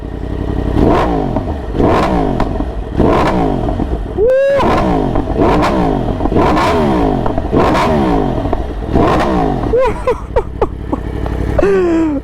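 A loud Yamaha R1 sport motorcycle engine with an Akrapovič titanium exhaust revs hard in repeated bursts, climbing and falling in pitch, its sharp, raspy exhaust crackling between blips.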